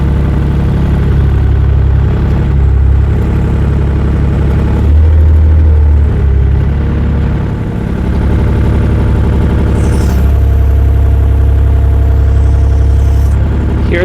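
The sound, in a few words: 1 ton wheel loader engine while driving and curling bucket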